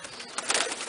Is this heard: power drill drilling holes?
no